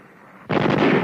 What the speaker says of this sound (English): When it is fired full automatic, it produces bursts of shots with each pull of the trigger.